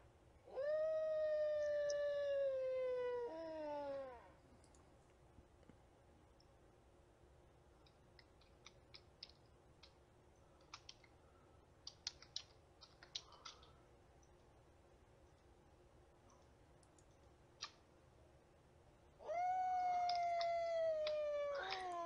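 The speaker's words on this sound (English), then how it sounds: "I can hear other ones howling" Wolves in the Minecraft mod Better Than Wolves, two long loud tonal howls, one at the start and one near the end, with faint scattered clicks in between.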